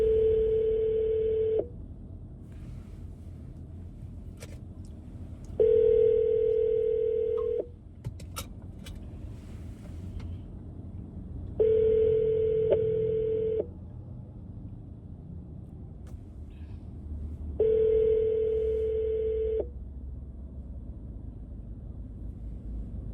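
A phone call rings out while dialing a man about renting a park: four evenly spaced electronic ring tones, each about two seconds long, separated by quiet gaps with a low background hum.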